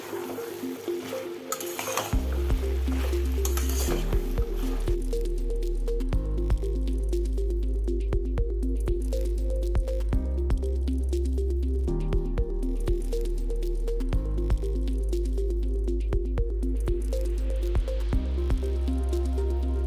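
Boiled pasta for chilli pasta is stirred in a pan with soft repeated squishing and faint sizzling scrapes, steady and close, under quiet background music.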